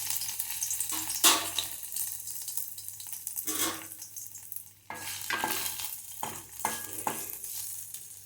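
Ginger fries in oil in an iron pan, with a close, steady sizzle broken by several louder bursts of stirring and scraping. No voices are present.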